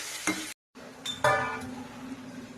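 Tangra fish curry bubbling in a pot, a soft sizzling simmer with a brief cutout, then scraping and clinking of a spoon stirring against the vessel, close and unaccompanied by speech.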